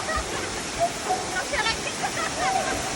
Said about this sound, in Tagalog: Tingnan niyo yung falls, ang ganda oh.